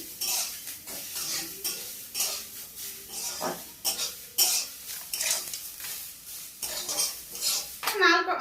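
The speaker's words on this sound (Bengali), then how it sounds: "আমি এখন নারকেলগুলো দিয়ে দেবো এক এক করে। ভালো করে একটু নেড়ে ফেলে নিই।" Grated coconut stirred in a hot wok for village-style kuli pitha, giving steady scraping and rustling with metallic clinks of the spatula against the pan, close and moderately loud, no talking.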